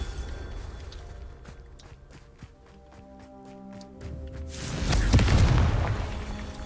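In Hogwarts Legacy, a run of light footsteps and clicks builds into a loud Confringo fire blast whose booming roar swells and fades over several seconds.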